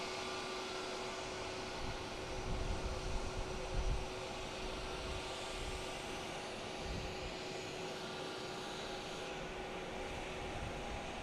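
A Spirit Airbus A321neo jet at Boston's Logan Airport gives a broad, steady engine roar with a constant tonal whine, heard from a distance and holding level throughout with no voices.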